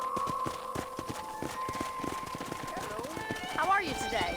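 Galloping horse hooves in the video game Red Dead Redemption, a steady rapid clip-clop running under a voice and background music throughout.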